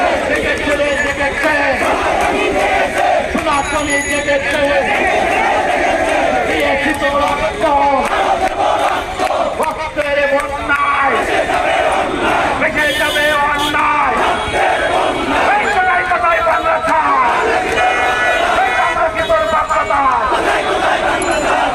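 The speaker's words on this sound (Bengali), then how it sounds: "জঙ্গিবাদের আস্তানা ভেঙে দাও গুড়িয়ে দাও বলে তারা স্লোগান এই মুহূর্তে দিচ্ছেন" A large crowd at a Shahbag protest chanting slogans in unison, loud and continuous, with rhythmic call-and-response bursts repeating over a dense roar of voices.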